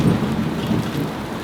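Heavy rain pours down steadily over a tiny-home building site with a deep rumble of thunder underneath, loud and enveloping with no speech.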